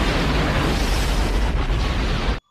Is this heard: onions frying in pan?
no